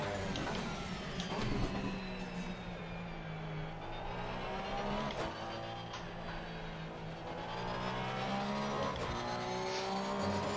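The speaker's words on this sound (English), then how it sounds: "The ABS kicking in that one right away." A Porsche 911 race car under hard ABS braking at the Nürburgring in Assetto Corsa Competizione, with a loud, steady engine drone, shifting harmonic whine, and rattling brake and tyre chatter running continuously throughout.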